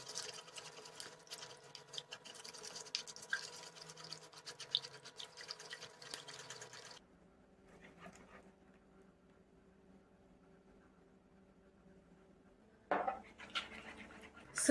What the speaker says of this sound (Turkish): Yağı koymadan diğer malzemeleri ilk önce güzelce çırpalım.